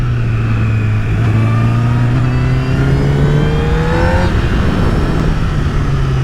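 Honda CBR1000RR Fireblade SC59 superbike accelerating hard, its engine note rising steadily in pitch as it pulls through the gears, loud and close with wind rush.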